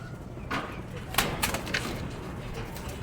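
Pet pigeons coo in soft, low bursts close by, mixed with rustling and handling noises as someone prepares to train them to enter their loft.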